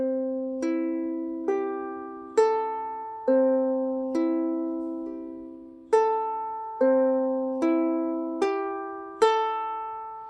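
A ukulele plays a thumb, index and middle finger roll at a slower pace, each plucked note ringing and decaying before the next in an unhurried, evenly spaced pattern, close and alone.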